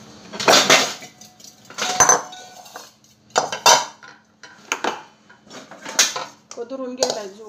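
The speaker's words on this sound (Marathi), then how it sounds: "भांडी लावून कटाळा यायलाय" Metal pots and dishes clatter and clink in loud, separate bursts as they are stacked and put away by hand, with quiet gaps between and some talking.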